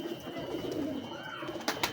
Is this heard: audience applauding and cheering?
no